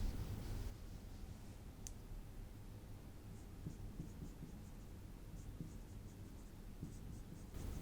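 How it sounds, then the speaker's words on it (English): Pen or marker writing out a chemical structure during an alkene chemistry lesson, a steady faint scratching with soft clicks, close and quiet, with no talk. "I will write the full structure."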